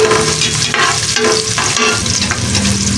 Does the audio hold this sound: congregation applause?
no